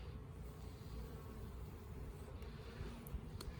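Honeybees in a top bar hive hum with a steady, dense, close buzzing throughout while the hive is opened, with a few faint clicks near the end.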